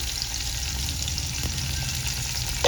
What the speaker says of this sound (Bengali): করলাগুলো ভেজে নিচ্ছি হলুদ দিয়ে দিলাম